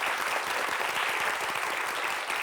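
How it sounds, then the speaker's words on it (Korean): Studio audience on a Korean TV science quiz show breaks into steady applause, even clapping from many hands throughout, fairly soft and with no voices on top. "야 오스카 와일드한테 박수 한번 쳐주시죠."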